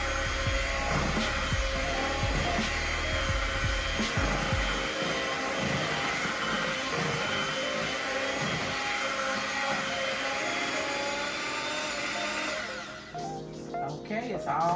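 An electric mixer whirs loudly and steadily through lime cake batter made from boxed cake mix, a continuous motor drone with a grinding texture that cuts off near the end, while a person talks over it.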